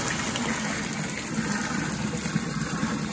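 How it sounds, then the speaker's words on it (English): Hot sugar water is poured into a vessel while making peach mountain brandy moonshine, giving a steady, continuous gushing splash of liquid that holds at an even level throughout, close by and with no voices. "Now we're gonna dump our hot sugar water right on that."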